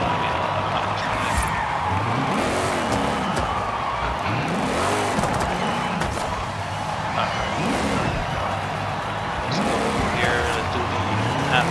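A Nissan 350Z with a boosted drag tune in Forza Horizon 5 revs and accelerates repeatedly, its engine note rising and falling in sweeping pitch arcs under a constant loud roar, with tire noise.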